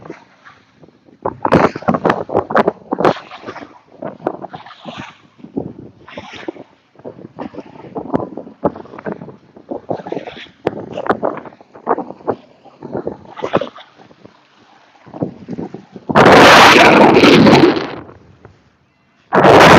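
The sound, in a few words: strong wind while fishing outdoors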